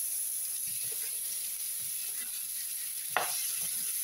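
Apple pieces fry in butter in a hot frying pan, giving a steady, close sizzling hiss with one brief clink of a utensil near the end.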